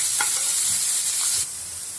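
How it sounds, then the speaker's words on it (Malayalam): Onion and green chili sauté on a low flame with a steady soft sizzle, broken by a few light stirring scrapes. "ഇത് നമുക്ക് ലോ ഫ്ലെയിമിൽ വെച്ച് ഗോൾഡൻ ബ്രൗൺ നിറമാവുന്നവരെ ഒന്ന് സോട്ട് ചെയ്തെടുക്കാം"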